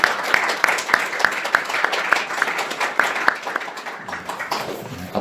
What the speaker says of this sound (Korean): 더 크게 한번 박수 보내주시기 바랍니다